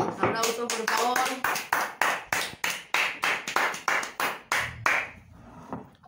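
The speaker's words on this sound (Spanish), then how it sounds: "¡Aplausos, por favor!" A few people clap in a home setting during a family cake celebration, a series of sharp, evenly spaced hand claps at a brisk rhythm, close and fairly loud, with a voice talking over the start.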